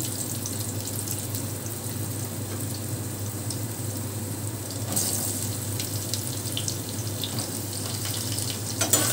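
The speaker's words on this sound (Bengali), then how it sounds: "এবার এই তেলেতে আমি দিয়ে দিচ্ছি কালো জিরে। কালো জিরেটা একটু হয়ে যাবে, এবারে দিচ্ছি আলুগুলো।" Potatoes frying in hot oil with nigella seeds produce a continuous hissing sizzle, fairly close and even, with a brief louder surge midway and no voices.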